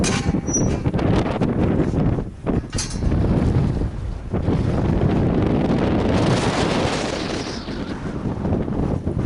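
Strong wind buffets the microphone during a mountain walk through Hags Glen, a steady roaring rush with brief dips in loudness, close and loud, with no voices.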